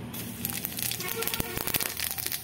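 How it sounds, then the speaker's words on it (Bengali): Cumin and five-spice seeds crackle and sizzle in hot oil in a pan, giving a dense, steady hiss peppered with sharp pops throughout. "তেলটা গরম হয়ে গেছে, দিয়ে দেব জিরে আর 5 ফোড়ন।"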